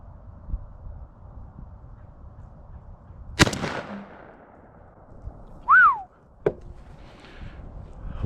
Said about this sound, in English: it's my first shot from 20 yards.